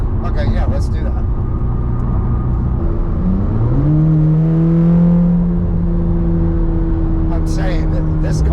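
A tuned 1120 hp C8 Corvette ZR1 supercar engine runs steadily, then revs up smoothly to a higher sustained drone, with brief voices at the start and end.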